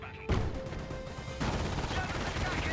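Gunfire in Company of Heroes 1, a quick burst of rapid shots followed by a continuing rattle of distant battle fire, with a faint tone in the background.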